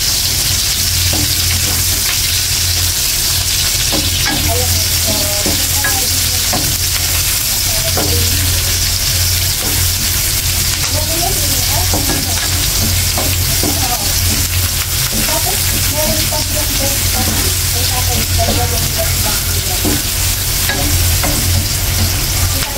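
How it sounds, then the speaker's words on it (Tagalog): Garlic and onion sautéing and sizzling in a pan for Filipino adobong labong with bamboo shoots, a steady loud frying hiss with occasional stirring scrapes and clicks throughout. "simulan na natin ang ating paggigisa"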